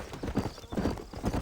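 Horse hooves clip-clopping in the Red Dead Redemption video game, a quick steady trotting rhythm of soft thuds at moderate volume with no speech over it.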